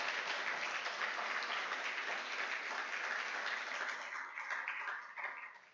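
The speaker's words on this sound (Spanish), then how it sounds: "Aplauda al Señor si usted quiere aplaudir" A church congregation applauds, a dense, even wash of many hands clapping that holds steady and then thins out and fades toward the end.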